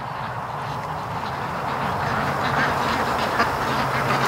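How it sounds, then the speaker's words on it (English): Ducks quack steadily and fairly loudly close by from a back deck where a flock is being raised, calls overlapping continuously with no talk. "enjoying the sound of them quacking"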